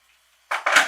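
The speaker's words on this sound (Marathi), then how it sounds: "आणि मिक्सरच्याच भांड्यामध्ये मी गरम पाणी घालते थोडं" A sudden splashing pour of hot water into a mixer jar breaks the silence partway through, loud and close, surging again a moment later and running on to the end.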